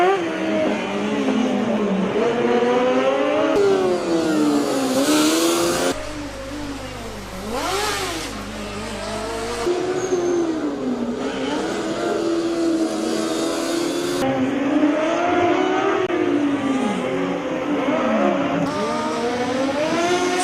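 Formula Student combustion and electric race cars at an endurance event speed past one after another, engines rising and falling in pitch as they pass, with a commentator's voice audible at times.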